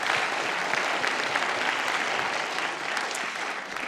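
Steady, dense applause from a cinema audience at a film premiere, a continuous wash of many hands clapping without pause, evenly loud throughout.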